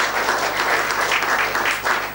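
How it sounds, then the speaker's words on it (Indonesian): Church congregation clapping together in a steady, dense burst of applause, close and sustained for a couple of seconds with no talk over it. "ya tepuk tangan buat Tuhan Yesus"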